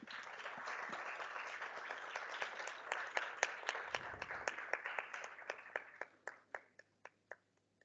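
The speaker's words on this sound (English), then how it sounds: "Ladies and gentlemen, please give them a big round of applause." An audience applauds, a dense patter of many hands that thins out into a few scattered individual claps before stopping.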